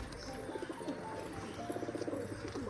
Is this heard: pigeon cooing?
yes